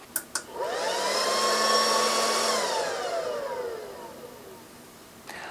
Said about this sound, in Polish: ten wentylator podczas włączania urządzenia potrafi być dość głośny